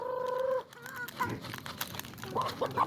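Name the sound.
chicken clucking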